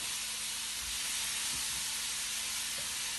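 Blanched tomatoes sizzle and hiss steadily in a hot pan for chicken chasseur, a continuous bright frying noise with no voices over it.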